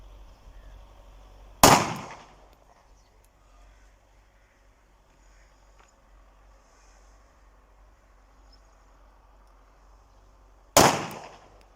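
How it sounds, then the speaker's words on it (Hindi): Two sharp, loud gunshots from a handmade 30 bore pistol during a test fire, spaced about nine seconds apart, each with a short decaying echo against quiet outdoor background. "तीन फायर किए हैं।"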